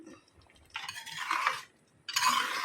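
Dried fish curry with kudampuli is stirred in a pot, producing two short bursts of soft scraping and sloshing close by, separated by a brief quiet gap.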